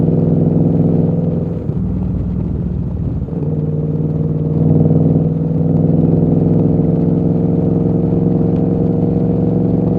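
A motorcycle with loud, noisy aftermarket exhaust pipes rides along at around 50 mph. Its engine drones steadily and close, with a brief dip in pitch near the start as the rider shifts gears.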